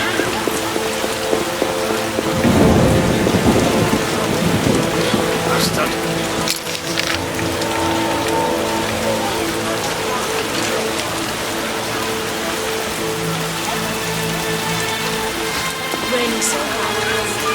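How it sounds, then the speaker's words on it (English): Heavy rain pours down steadily and loudly in The Witcher video game, with a low rumble of thunder rolling in near the start. "Raining so hard."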